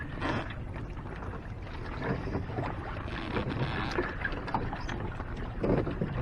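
A small battery-powered electric motor pushes a trimaran along on open water, a low steady drone mixed with water wash and gusts of wind on the microphone, fairly quiet and without speech.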